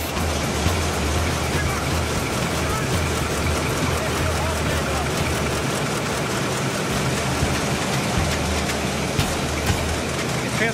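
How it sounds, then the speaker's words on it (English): Engines of the cruise ship Harmony of the Seas run with a loud, dense, steady mechanical roar and low rumble in the engine room, a voice faintly heard beneath. "It's great to see the engine alive."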